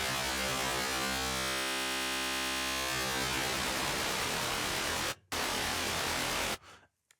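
A Meld synth in Ableton 12 produces dense synthesized noise with a hum-like tonal layer fading into a broad hiss, then cutting out briefly, resuming, and stopping abruptly near the end.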